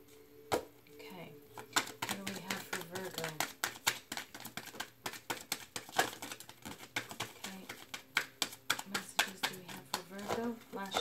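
Tarot cards being shuffled give a rapid, dense run of crisp papery clicks and riffles in quick bursts, fairly soft and close, with a voice present at times.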